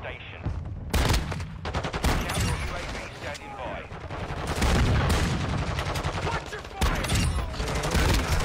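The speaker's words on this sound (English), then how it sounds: "I'm just using the shotgun on Shoe House." Shotgun fire in the Warzone 2.0 video game comes in loud, dense bursts of blasts and rattling gunfire, with a voice mixed in beneath the shooting.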